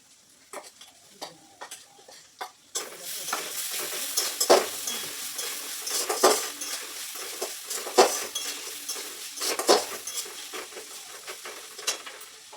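Ginger garlic paste with green chilli hits a pan for Bengali ghugni and starts to sizzle, while a utensil scrapes and taps in frequent clear strokes over the steady frying hiss, with no talking.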